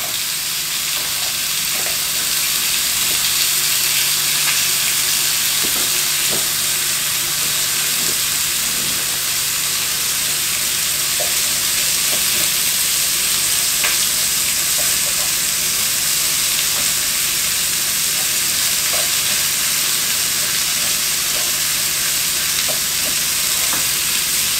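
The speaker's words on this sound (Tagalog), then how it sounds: "So, dahil tumawag si Esme, medyo natusta na yung bawang, okay lang yan" Crushed garlic fries in a pan with a loud, continuous close sizzle and hiss, broken by occasional faint stirring clicks throughout.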